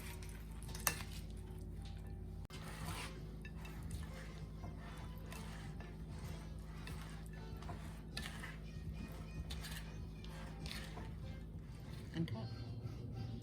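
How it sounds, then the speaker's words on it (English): A spoon stirs a broccoli salad in a bowl, giving soft wet squishes and occasional light clinks against the dish, faint and steady over a background hum. "Let me just give this a good stir."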